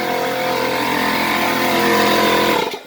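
A garage air compressor drones with a loud, steady motor hum and tonal whine, running continuously close by before cutting off abruptly just before the end.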